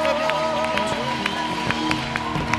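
A church congregation at a worship gathering clapping for the Lord, with many hands beating in a quick, even rhythm over a steady background of voices and music.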